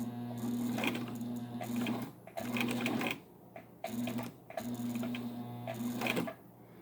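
Sewing machine stitching slowly through thick layers over a hump jumper, close motor whir with rhythmic needle thumps in several bursts separated by brief pauses.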